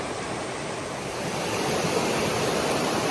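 A river flows beside a rocky trail near Laurel Falls, a steady broadband rush of water that stays loud and close throughout, with no voices.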